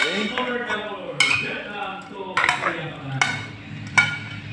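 A spoon stirring ginger in a metal cooking pot for chicken adobo, with several sharp clinks and scrapes against the pot over a continuous hum of voice-like sound.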